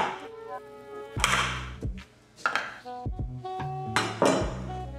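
Sharp cracks and thunks from the heel of a chef's knife breaking a lobster claw on a board, several hard, uneven strikes spaced about a second apart, close and clear.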